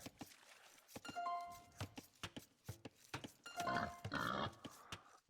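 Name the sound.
boar in Age of Empires II video game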